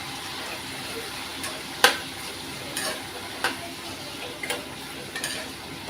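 Chopped tomatoes with salt stirred and cooking in a pan over onions, a steady soft sizzle with a few sharp scraping clicks of the spoon at intervals.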